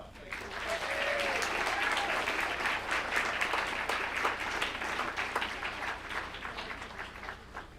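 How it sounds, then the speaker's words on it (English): An audience at a school board meeting breaks into a full round of applause that swells quickly, holds steady and then slowly thins out. "One more round of applause."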